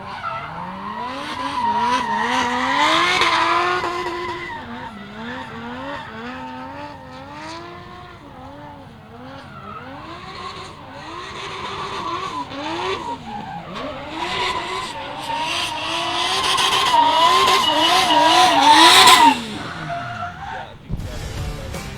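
A Nissan S14 drift car with a 2J engine on Fleet Tyres tears through a qualifying run at Meremere Drift Park, tyres screeching and engine wailing almost nonstop, swelling to a loud peak near the end, with commentary voiced over it.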